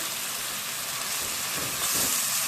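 Chopped tomatoes drop into hot biryani masala, setting off a steady, loud sizzle and frying hiss that swells slightly toward the end, close up with no talking.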